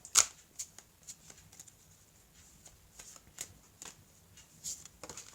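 Oracle cards of a large love-themed deck being shuffled by hand, a sharp initial riffle followed by soft, irregular papery flicks and slides nearby in a quiet room.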